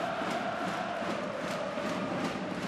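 Visiting Sparta Prague fans in the section behind the goal roar at an ice hockey game in the 2016/17 CHL Final against Frölunda, a steady dense crowd din with rhythmic chant swells throughout and no talk over it.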